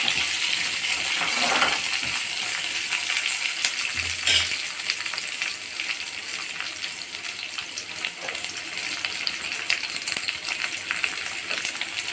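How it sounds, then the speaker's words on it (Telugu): Green chillies and curry leaves fry in hot oil with a continuous crackling sizzle, punctuated by scraping stirs and a sharp clink of a utensil partway through, with no talk. "తర్వాత పచ్చిమిర్చి, కరివేపాకు వేసుకొని కలుపుకోవాలి."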